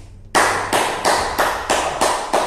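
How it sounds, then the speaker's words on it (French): An audience claps in unison at a talk on the secret of millionaires, seven loud, evenly spaced bursts of clapping with a steady beat and short ringing tails between them. "Applaudissez pour moi."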